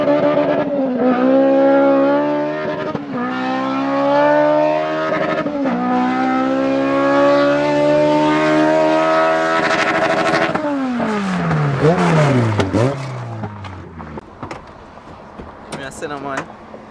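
A nitro RC car's small high-pitched engine revs repeatedly in rising and falling whines, loud and close, with a sharp drop in pitch near the end.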